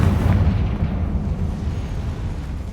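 Confringo fire spell explosion in the Hogwarts Legacy video game, a loud deep blast that bursts at the start and rumbles on steadily to the end, with no talk over it.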